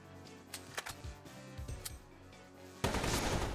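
Gunfire in the video game Metal Slug Tactics comes as a few sharp shots over game music, then a loud burst of rapid fire near the end.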